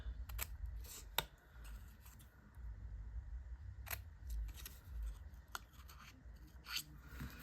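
Scissors trim paper for a handmade card, snipping in a series of quiet, sharp cuts with short gaps between them over a soft rustling background.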